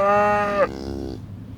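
A cow or similar farm animal lets out one drawn-out, loud and close moo, lasting under a second and a half, with a pitch shift partway through. No voices are heard.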